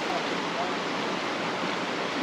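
A river flowing at Bukit Lawang, Sumatra, a steady broad rush of water heard up close, even and continuous for the whole short stretch with no voices over it.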